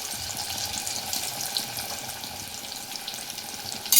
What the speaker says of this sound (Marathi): तर तेल गरम झालेलं आहे, यामध्ये ही अळूवडी सोडूया।